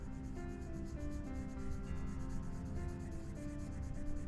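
A Cloud Blue PC1023 colored pencil is burnished over dark blue paper color in a faint, continuous, soft rubbing scrape, with rapid back-and-forth strokes, close and quiet, with no speech.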